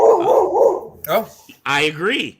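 A pet dog gives a few quick, loud barks and yips close by, overlapping and following a person speaking briefly.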